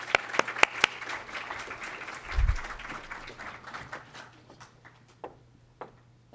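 Audience applause welcomes speaker Lisa Guernsey at Eastern Connecticut State University, a moderate crowd clapping steadily before the sound thins out to a few scattered claps.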